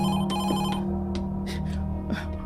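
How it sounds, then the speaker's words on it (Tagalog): Telephone ringing on a hacienda, loud and close, in repeated bursts of bright electronic trilling with short gaps between them and no talking over it. "Ayay, mibagting ang telepono."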